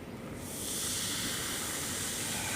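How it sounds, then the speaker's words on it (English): Acetic acid added to a water sample sets off a strong, continuous fizzing hiss of bubbles, close and steady after a brief quieter start, with no voices. "See those bubbles? You see the fizzing? You hear that sound?"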